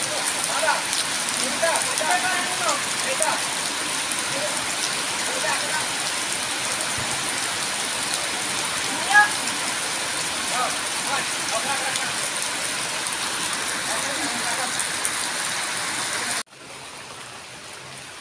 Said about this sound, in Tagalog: Igi ulanan na dayon